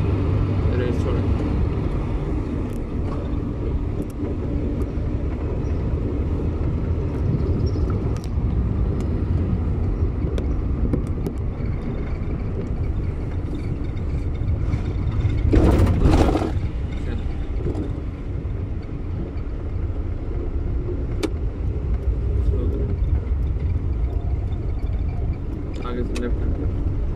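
A manual car's engine runs steadily while driving, a constant low drone with a brief louder surge midway, heard from inside the cabin under an instructor's intermittent voice.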